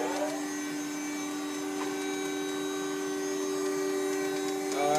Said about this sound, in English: I will start the hydraulics, and the machine power,